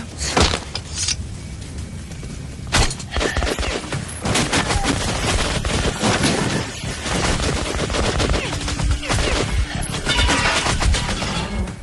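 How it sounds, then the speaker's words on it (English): Sustained machine gun fire and bursts of shooting in the video game Metro Last Light, loud and dense throughout, with heavy rattling volleys and scattered impacts filling the whole stretch. "you could have expected they have machine guns"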